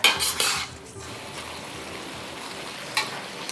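Cabbage tossed into a hot wok for KL-style Hokkien mee stir-fried noodles, with a loud opening clatter of metal utensils against the pan, then a steady close sizzle and one more scrape near the end.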